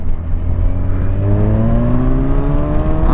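A Kawasaki Ninja 1000 SX four-cylinder motorcycle with a quick shifter pulls hard, its smooth engine note climbing steadily in pitch under a heavy low rumble and wind noise, close and loud, without speech.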